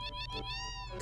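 A cat meows once in Final Fantasy VII, a short clear tonal call heard close and alone.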